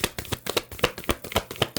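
A deck of cards is shuffled by hand in quick rhythmic riffles, each a crisp papery burst in an even run of about ten, close up with no voices.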